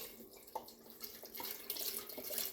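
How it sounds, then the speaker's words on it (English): Chicken broth pours steadily into a pan, a close, fairly quiet splashing that builds slightly as it goes, with no voices. "So we're going to pour the chicken broth into the pan"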